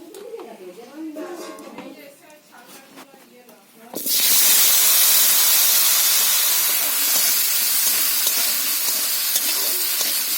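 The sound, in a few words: potatoes frying in oil in a wok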